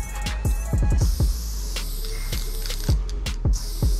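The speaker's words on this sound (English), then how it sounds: "Sounds like they found a spray can downstairs." A spray paint can hisses in bursts somewhere downstairs in an abandoned building where kids are doing graffiti, broad airy spurts broken up by sharp rattling clicks and knocks, moderately loud and with no talk.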